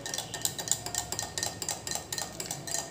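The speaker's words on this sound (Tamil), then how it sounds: "நாட்டு சக்கரையை போட்டு நல்லா கலக்கிக்கோங்க" A spoon stirs palm sugar into butterfly pea flower tea in a cup, giving a steady run of light, rhythmic clinks and taps, close and clear with no talking.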